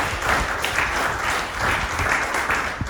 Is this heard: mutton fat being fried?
no